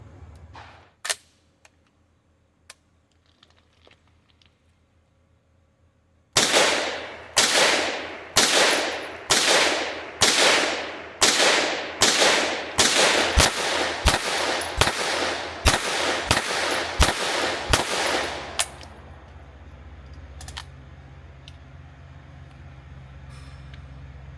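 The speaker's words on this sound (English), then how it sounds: "So, first 15 shots using the stabilizer brace, not terrible." A MAC-5 MP5-style gun fitted with an FSA folding stabilizer brace fires about fifteen loud, sharp shots at a steady, deliberate pace outdoors, each crack followed by a short echo, with a brief pause before and low ambient noise after.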